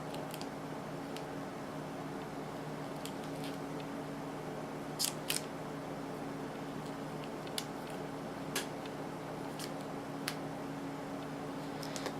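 Scissors snipping suture thread, a few faint, sharp clicks spaced several seconds apart over a quiet steady hum, close and brief, with no talking.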